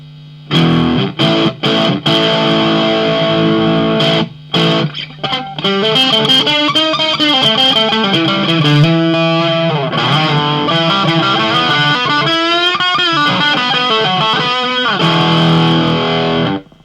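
Heavily distorted electric guitar through a Marshall MG15CFXMS amp, loud and saturated: a few stabbed chords, then sustained, wavering notes and riffs played continuously until a sudden stop.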